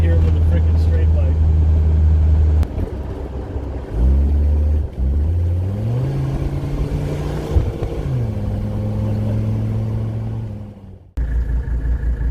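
A Mercedes-Benz W123 300TD with its OM617 turbo diesel engine idles with a deep rumble, then revs up in rising steps and holds high before dropping back toward idle, loud and close, with someone talking over it.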